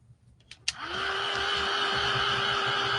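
A hair dryer drying a decoupage napkin clicks on after a couple of faint taps, then blows a steady, close, loud whooshing hum with a constant motor whine for the rest of the clip.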